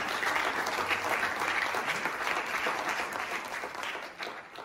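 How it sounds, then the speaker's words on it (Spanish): Audience applause for a lawyer being welcomed at a human rights talk, as dense, steady crowd clapping that continues throughout and eases slightly near the end. "Un aplauso para Rodolfo"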